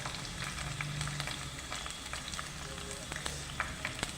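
A handful of okra fries in oil in a small tilted pan, giving a continuous close sizzle with scattered pops and crackles and occasional scrapes, without speech.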